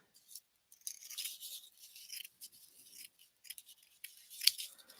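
Scissors snip through a piece of craft material, cutting it in half with a run of crisp, close, irregular cuts and brief pauses between strokes, and one sharper snap near the end.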